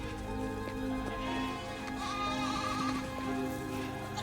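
Goats bleating in a barn-like space, several wavering cries overlapping against a steady background of music-like tones and faint shuffling, fairly quiet and continuous.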